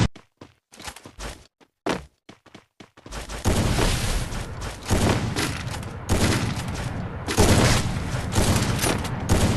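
Gunfire from the Free Fire mobile game: a few scattered sharp shots at first, then dense, loud bursts of rapid shooting that continue in waves to the end.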